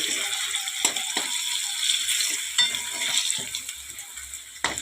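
Potatoes fry in a pan with a continuous close hiss and sizzle, broken by occasional clicks and knocks of a utensil against the pan.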